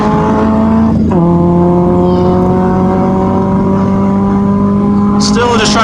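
Caterham SuperSport race car on Sepang Circuit, heard from inside during a race: a loud, steady engine drone holding a constant pitch, with a brief gear-change dip early on and a rising shift near the end.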